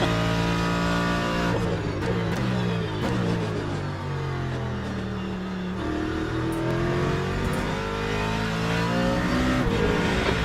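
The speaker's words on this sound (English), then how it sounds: "So it'd be a good 2 hours of listening to Mustang power." Ford Mustang GT race car engine in a Le Mans Ultimate GT race, a loud continuous roar that rises and falls through gear changes, with revving and shifting pitch throughout and no voices.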